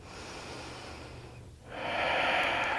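A deep yoga breath: a quiet, drawn-in inhale, then a brief pause and a louder, breathy exhale rushing out close to the microphone, with no talking.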